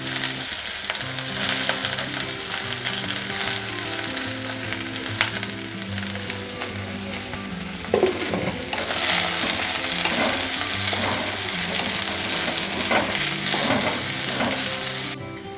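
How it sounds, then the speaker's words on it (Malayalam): Sliced onion dropped into hot coconut oil sets off a loud, steady close sizzle with crackling, followed by stirring scrapes as it fries, with no voices. "അതേ നമ്മുടെ വെളിച്ചെണ്ണ നന്നായിട്ട് ചൂടായിട്ടുണ്ട് കേട്ടോ. അപ്പോൾ നമുക്കിനി സവാള ഇട്ട് കൊടുക്കാം."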